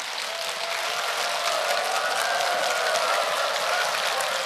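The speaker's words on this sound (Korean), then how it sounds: "큰 박수로 환영해 주시기 바랍니다" An audience in a lecture hall claps steadily to welcome a lawyer speaker onto the stage, dense, even applause sustained throughout with no voices over it.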